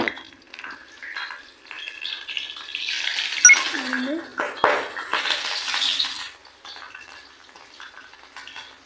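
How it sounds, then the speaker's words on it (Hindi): Fenugreek seeds being stirred in a pan while cooking, with scraping and light sizzling over several seconds at moderate level, and a brief clatter partway through. "मेथरे काले होन तक्कर इसी चलांदी रौह्गी मैं"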